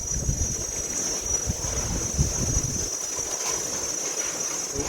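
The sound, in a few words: strong wind outdoors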